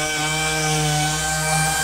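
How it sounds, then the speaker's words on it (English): A power sander distressing a wooden media center drones continuously with a steady, close, buzzing hum, loud and unbroken throughout. "So the sander really cuts through it really easy."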